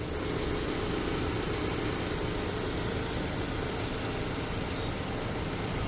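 A 2023 Mitsubishi Xpander GLS idles in brand new running condition, a soft, steady, even engine hum that holds unchanged from start to finish with no voices.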